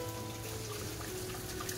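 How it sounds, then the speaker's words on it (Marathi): Light rain falls steadily outdoors, a soft, even patter heard at low volume against a faint background hum, with no voices. "पाऊस चालू आहे ना"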